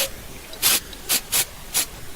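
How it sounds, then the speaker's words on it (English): Four short bursts of aerosol contact glue spray hiss out in quick succession onto carpet, with brief pauses between them, close to the listener. "we're using contact glue here. We spray it on"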